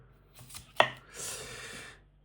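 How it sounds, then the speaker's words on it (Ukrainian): A kitchen knife drawn through food in a pulling slicing cut: one sharp bite into the food, then a smooth rasping slice that lasts about a second before fading. It is close and fairly quiet, with no voices. "Ось таким способом от, йде нарізання."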